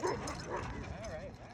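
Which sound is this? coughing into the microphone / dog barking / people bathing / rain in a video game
dog barking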